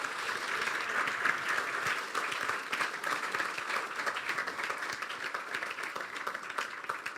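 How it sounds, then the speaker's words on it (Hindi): A church congregation claps during a sermon, many hands producing a continuous, lively wash of applause with individual claps popping out, steady for several seconds. "बजा दे अपने लिए तालियां।"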